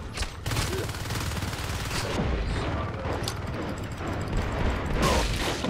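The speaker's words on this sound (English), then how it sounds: "And the pistol fire has been slowed down slightly." Pistol fire in the video game Natural Selection 2 comes as repeated sharp shot bursts over a dense, continuous battle din, with louder volleys spaced every second or two.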